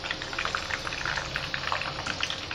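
Chicken lollipops fry in oil, producing a continuous bubbling sizzle with soft popping, moderately close and steady, with no voices.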